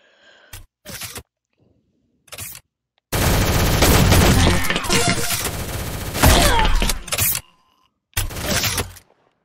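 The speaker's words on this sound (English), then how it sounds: "I'm gonna go with shotgun this time." A shotgun fires in the egg-themed online shooter Shell Shockers, with separate short blasts and a longer stretch of heavy, overlapping gunfire, all loud and close.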